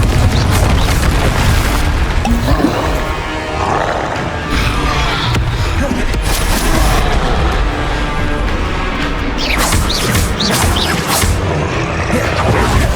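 Spell combat in Hogwarts Legacy with Confringo fire blasts, a run of loud booming explosions and crackling bursts layered over a dense, rumbling fight soundscape, with several sharp hits clustered near the end.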